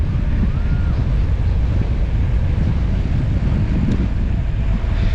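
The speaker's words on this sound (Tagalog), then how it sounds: "Ang hangin!" Loud, steady wind roars across the microphone during a fast downhill ride, a continuous low buffeting rush with no voices.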